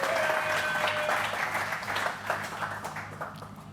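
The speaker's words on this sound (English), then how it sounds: "Big round of applause, please." An audience at a motocross awards gala applauds two world champions, a steady wash of clapping from a large crowd with faint voices mixed in, gradually softening.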